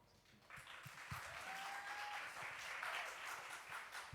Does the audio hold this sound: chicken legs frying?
no